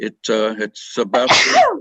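A sudden sneeze bursts out right after a few spoken words, sharp and close, with a brief breathy tail.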